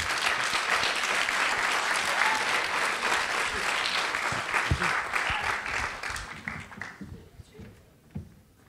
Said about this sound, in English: Have an applause.